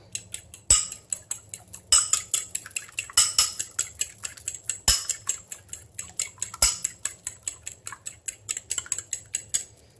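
Eggs for zucchini muffins are beaten by hand in a bowl, a quick steady run of close clinking utensil strokes against the bowl, alone.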